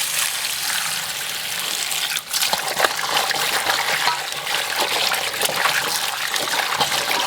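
Running water from a tap rinsing water bamboo (jiaobai) shoots, a steady close splashing trickle with brief handling bumps throughout.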